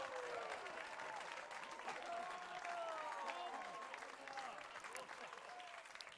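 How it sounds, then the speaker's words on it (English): Light crowd clapping and applause from a video game plays as a soft, steady patter, with faint whistle-like tones drifting through the background. "Light clapping."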